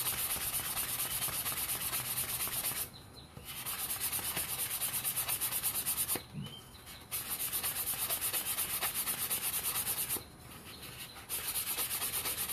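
The cut lip of a cup is sanded all the way around with 400 grit sandpaper, making a continuous, close, rhythmic rasping scrub that breaks off in three short pauses.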